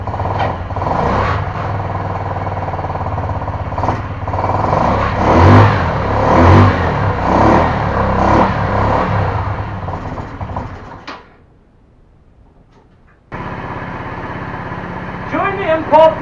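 A rebuilt custom scooter engine runs rough and lumpy in a garage, revving unevenly and loud up close. It cuts out into near-silence for a couple of seconds before other noise returns.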